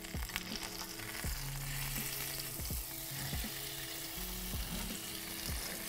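Harissa and pomegranate marinated cauliflower sizzles steadily in a hot pan, a close, continuous frying hiss with occasional soft clinks and scrapes, no voices.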